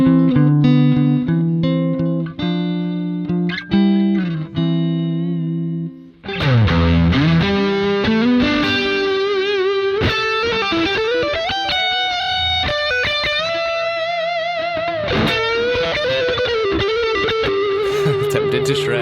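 An electric guitar played through the Nembrini Audio Jazz Chorus amp simulation on iOS: clean chorused chords ring first, then a busier run of distorted single-note lines and bends. Loud and close, with no talking.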